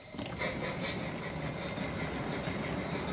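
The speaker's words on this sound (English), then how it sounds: "The motors still do kind of overpower some of the chuffing sounds." Brass O-gauge Bull Moose 2-8 model steam locomotive running, a steady, fairly faint motor whir and rolling rumble, with any chuffing mostly buried under the motor noise.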